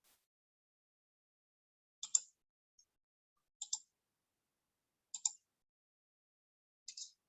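Four crisp computer mouse clicks at roughly even intervals of about one and a half seconds, each a quick double tap, close up and isolated in near silence while clicking OK in statistics software.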